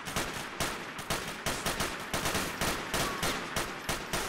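Rapid bursts of gunfire from the GTA 4 video game, loud overlapping volleys of shots fired in quick succession, close and continuous with no talk.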